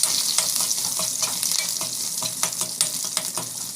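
Dried red chillies sauté in oil in a pan, giving a steady, close crackling sizzle with sharp pops scattered throughout and no voices.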